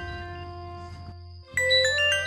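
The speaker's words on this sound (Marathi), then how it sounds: "आईचा फोन." A mobile phone rings with a sustained electronic tone that briefly cuts out, then returns as a brighter, louder melodic ringtone.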